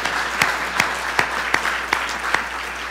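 Audience applause for two debate speakers, a sustained wash of clapping with a few sharper, louder claps standing out at irregular intervals, fairly close and with no talk over it.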